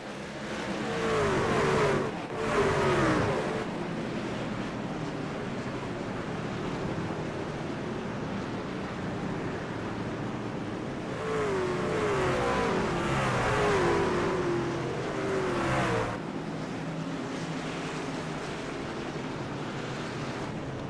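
Race trucks lapping the Charlotte Roval in a racing game's truck series, engines droning and swelling past in waves with a steady wind-like roar throughout, revving rising and falling in two louder passes.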